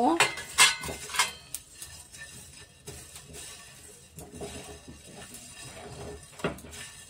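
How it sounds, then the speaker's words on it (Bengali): Whole cumin and a piece of mace tossed in a dry pan for chicken rezala, with metal utensil clinks and scrapes that are loud at first, then quieter and intermittent, plus faint background sounds. "দিয়ে আমি এটা একটু শুকনো খোলায় অল্প করে নেড়ে নেব।"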